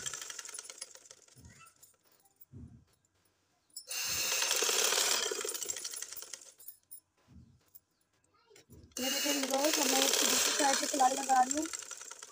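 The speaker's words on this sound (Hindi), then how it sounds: "ये किनारे पे हम लोग सिलाई लगाते जाएंगे" A sewing machine stitches along the edge of a trouser leg in two loud, sustained runs of rapid mechanical whirring, separated by quiet pauses with soft clicks and handling, with a voice heard during the second run.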